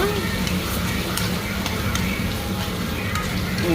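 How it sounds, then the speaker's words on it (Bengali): Tomato sautéing with turmeric, chili powder, cumin and coriander powder in a pan, a dense, loud, steady sizzle that runs unbroken throughout, with faint voices underneath. "হলুদ, লঙ্কার গুঁড়ো, জিরে ধনে পাউডার, টমেটোর সাথে সব ভালো করে কষিয়ে নেব।"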